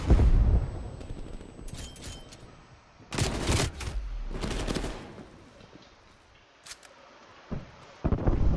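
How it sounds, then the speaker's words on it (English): Frag grenade explosions and gunfire in a Call of Duty Cold War team deathmatch, with several loud broadband bursts spread across the clip and heavy rumbling between them. "I got a frag grenade."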